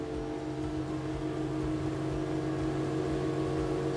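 A Whittley CR 2600 outboard boat accelerates under power, its engine a loud, constant drone with a steady rumble throughout.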